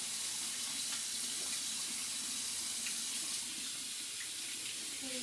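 Steady running water from a sink tap during hand washing, a continuous even hiss that carries on unbroken throughout.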